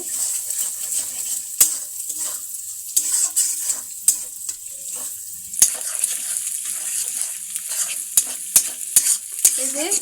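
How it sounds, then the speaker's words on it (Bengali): Egg scrambling and frying in a pan with onion, a steady close sizzle broken by sharp scrapes and clinks of a spatula stirring against the pan, no talking. "ডিম প্রায় ঝুড়ো ঝুড়ো করে ভাজা হয়ে গেছে।"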